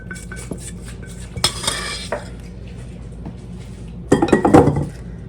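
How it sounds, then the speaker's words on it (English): A mixing bowl being scraped clean during home baking, heard as two short bursts of clattering, clinking scrapes separated by a quieter stretch, the second burst louder and closer. "Scrape the bowl clean. I like to get every last bit of it out that I can."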